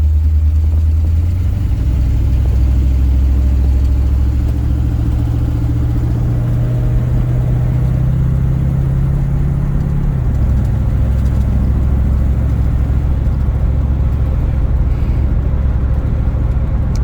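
A 1955 Chevy Nomad on the move, its engine a loud, steady low rumble that rises and shifts in pitch as it accelerates, heard from inside the car with no voices over it.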